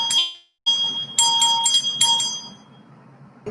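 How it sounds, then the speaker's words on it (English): A small bell is rung repeatedly during a tarot reading, giving bright, clear strikes in quick clusters with ringing tones that decay, then a final short strike. "We're going to ring the bell."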